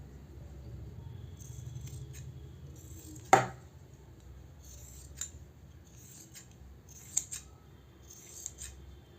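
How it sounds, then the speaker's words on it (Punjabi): Scissors cutting kurti cloth, a few sharp snips with one loud cut standing out, set apart by quiet rustling of fabric. "ਬਾਕੀ ਜੋ ਵੀ ਐਕਸਟਰਾ ਹੋਊਗਾ ਇਹਦੀ ਆਪਾਂ ਕਟਿੰਗ ਕਰ ਲਵਾਂਗੇ"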